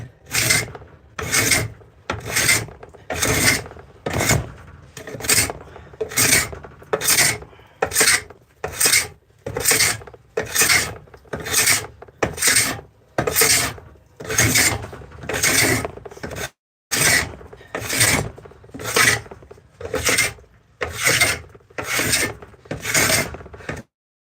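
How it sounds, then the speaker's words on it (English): A wooden spoon is worked with a rasp in steady, rhythmic back-and-forth strokes, about one per second, loud and close with a harsh scraping texture and only a brief pause. "I actually just started rasping the bejesus out of it, and that actually did help"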